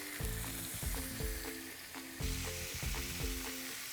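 Beef rolls sizzle and fry loudly in a hot pan with golden crown compound butter, a steady close crackle that continues throughout, with a brief burst of louder spattering partway in and no voices.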